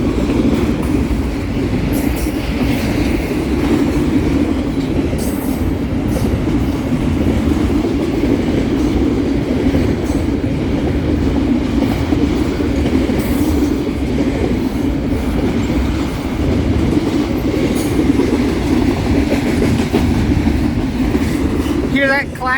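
A train rolls past close by with a loud, steady rumble and a rhythmic clickety-clack of wheels on the rail joints, continuing without a break.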